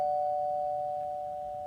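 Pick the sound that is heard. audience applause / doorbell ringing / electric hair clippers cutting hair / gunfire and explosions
doorbell ringing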